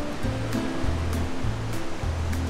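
Ocean surf washing steadily below an oceanfront room perched on the edge of the shore on a Brazilian island, with a continuous loud rush and rhythmic swells breaking every second or so, with no voices.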